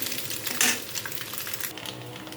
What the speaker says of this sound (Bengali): দেখো ডিমটা ভাজা হয়ে এসছে